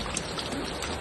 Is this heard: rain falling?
yes